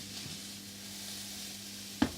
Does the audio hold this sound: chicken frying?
yes